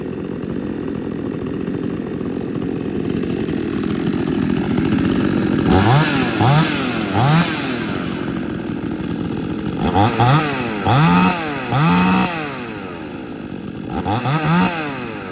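Two chainsaws run side by side, idling with a rough drone, then revving in repeated sharp bursts, several quick throttle blips close by and loud, with no talking.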